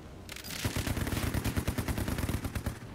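A fast, steady burst of gunfire in the strategy game Headquarters: World War 2, dense repeated cracks at a mid distance that roll on for a few seconds.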